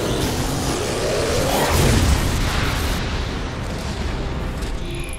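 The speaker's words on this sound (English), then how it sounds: "that was a load-bearing computer because now everything's blowing up" Loud, continuous explosions from the robot-combat video game Transformers: Fall of Cybertron, with a heavy booming roar and rumbling blasts that swell around the second second and then settle into sustained crackling destruction.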